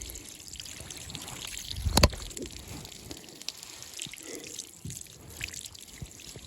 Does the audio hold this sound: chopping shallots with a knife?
no